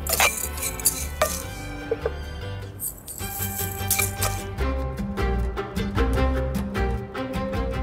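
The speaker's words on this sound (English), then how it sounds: "Just give this a stir." A pot of rice filling stirred with a utensil: clinking, scraping and rattling against the pot, close and fairly loud, in irregular bursts over light background music.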